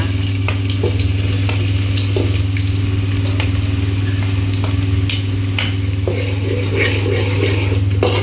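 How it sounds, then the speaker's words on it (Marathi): Onion sizzles in hot oil for a home-style Bhogi vegetable dish cooked in a large batch. The frying hiss is loud and steady throughout, with occasional stirring scrapes over a constant low hum, and there is no talk. "तेल तापलंय, आता कांदा घालूया."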